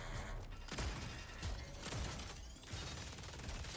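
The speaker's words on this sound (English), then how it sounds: "Oh, spider tank." Mechanical clanking and ratcheting from a spider tank enemy in a video game, a rhythm of heavy metallic steps and whirs, fairly faint and steady against ambient game sound.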